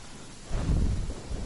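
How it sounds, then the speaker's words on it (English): A lightning strike in the video game Genshin Impact, in the Inazuma storm area, sets off a sudden low rumble of thunder that swells after a faint windy hiss and holds for about a second. "Get struck by lightning is an achievement."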